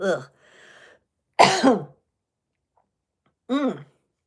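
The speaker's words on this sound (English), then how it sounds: "I just feel like I inhaled a bunch of smoke and need to cough it out." Two or three dry, sharp coughs close by, separated by short pauses, with a brief breathy sound after the first.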